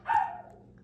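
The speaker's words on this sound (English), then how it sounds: "He's barking." A pet dog barks once somewhere in the background, a short faint yelp that trails off quickly.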